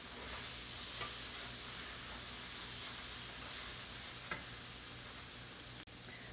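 Oats and dry fruits sizzle softly in ghee in a pan while being stirred, a steady low frying hiss with a few faint scrapes and clicks of the spoon, no talking.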